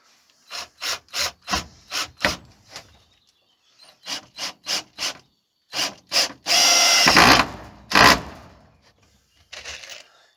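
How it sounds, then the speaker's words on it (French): A screw is driven into wood in a series of short, evenly spaced grinding bursts, then one longer continuous drive and a few more bursts. The sound is close and loud, with brief silences between the bursts. "du coup je vais la visser"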